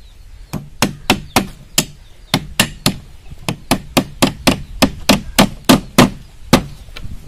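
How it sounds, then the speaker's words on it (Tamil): Small nails being hammered into wood while building a chicken coop, around twenty sharp, close hammer blows in quick irregular bursts, loud and alone. "அப்படியே அடிச்சிட வேண்டியதுதான். நல்லா சின்ன ஆணியாக யூஸ் பண்ணுங்கள்."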